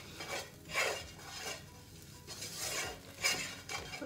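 Lamb rogan josh curry base with curry powder stirred in a pan, a spoon scraping and clinking against the pan in soft repeated sweeps with a faint sizzle beneath.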